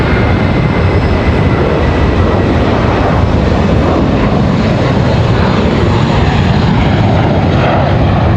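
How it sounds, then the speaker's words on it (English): An American Airlines Airbus A321 airliner moves at Raleigh-Durham International Airport, its engines giving a loud, steady, broadband roar that holds throughout without any voices. "American A321 on the move"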